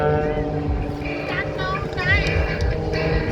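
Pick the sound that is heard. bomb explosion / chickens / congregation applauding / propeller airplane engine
propeller airplane engine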